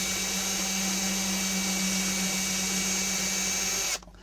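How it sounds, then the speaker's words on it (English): Power drill boring a hole into teak wood: a steady, loud, high whine running continuously for about four seconds, then cutting off abruptly, close with no talking. "drill that second hole in straight"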